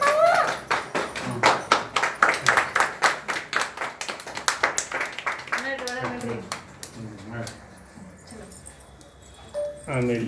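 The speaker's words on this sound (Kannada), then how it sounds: "ಚಪ್ಪಾಳೆ" Children at a school in Belagavi clap together on the first day of term, several seconds of brisk, rhythmic hand-clapping nearby that gives way to adults talking.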